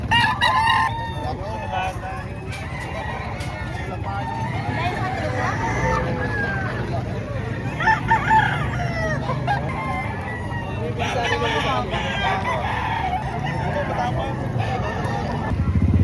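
Full-grown stag rooster crowing at a poultry market in Batangas, with other fowl clucking around it and a steady babble of people talking nearby.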